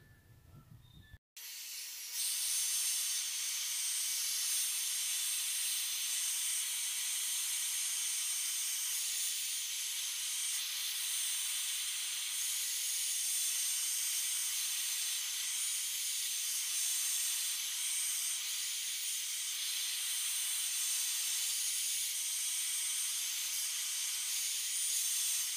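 A hair dryer switches on and blows steadily with a loud, constant whooshing hiss that continues without a break.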